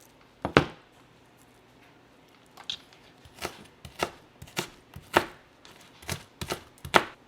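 A knife chops red onion on a cutting board, with sharp, close knocks: one isolated strike near the start, then an irregular run of about ten crisp chops, with no talking.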